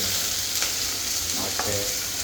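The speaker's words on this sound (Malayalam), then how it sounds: "ഓക്കെ, ഒന്ന് ഇളക്കി." Kadala curry masala sizzles and fries steadily in a pan while a spoon stirs through it, producing close, loud, even crackling with a few soft scraping strokes.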